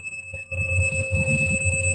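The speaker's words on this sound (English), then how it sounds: "He's setting off all the alarms." A steady electronic alarm tone rings continuously at a fixed pitch, loud and close, with a low rumble of background voices and crowd noise beneath it at a party setting.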